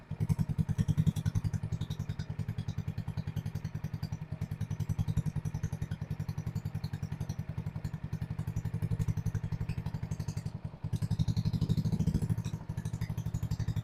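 RPS ATV150 sport engine idling, a steady close chugging putter with rapid even firing pulses and a slight surge in revs now and then, running alone without voices.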